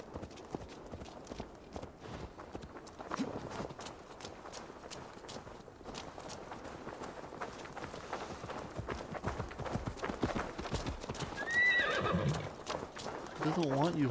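In Assassin's Creed Valhalla, a horse's hooves clip-clop steadily while walking, building to a clear whinny near the end, with someone talking over the game sounds.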